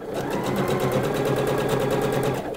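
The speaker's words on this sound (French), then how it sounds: "la machine avance plus vite parce qu'elle fait moins de points" A sewing machine stitches fabric in a loud, continuous run of rapid, even needle strokes that holds steady from start to finish, with no one speaking.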